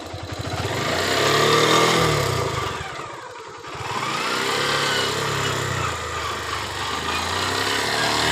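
A motorcycle engine runs close by, its revs rising and falling with a short dip in the middle, no talking.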